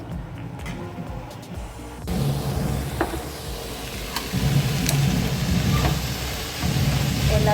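Mushroom and broccoli stir-fry being stirred and tossed in a hot pan, a steady sizzle with scraping and occasional light clinks of the utensil, close and continuous, no speech.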